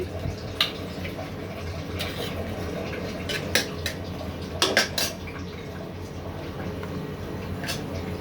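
A kadai is set down on a stove burner while shrimp with coconut is being cooked, giving a few sharp, separate metallic clanks and taps over a low, steady room background.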